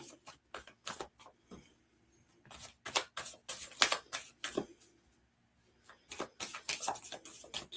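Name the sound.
tarot cards being shuffled by psychic medium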